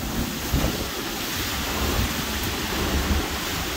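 Strong hurricane wind in Florida buffets a container, a loud, continuous roar with gusting surges and rain-like hiss, close and with no voices.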